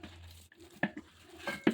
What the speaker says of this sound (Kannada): ಇದನ್ನು ಮಿಕ್ಸ್ ಮಾಡ್ತಿದ್ದೇನೆ.